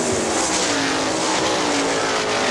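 Sprint cars in a 410-class race at Hartford Speedway Park in Michigan roar loudly and continuously as they run bumper to bumper into a turn, engines blaring close by with a steady, dense drone.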